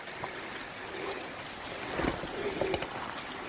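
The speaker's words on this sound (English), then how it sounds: "This is the creek that's running behind the campsite" A babbling creek runs behind a campsite on the West Rim Trail at PA Grand Canyon, a soft continuous rush of water, faint and unbroken.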